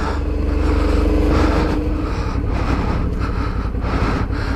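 Suzuki V-Strom DL650 motorcycle riding through slippery mud, its engine droning loud and close at a steady, labouring pace with slight rises and dips in revs.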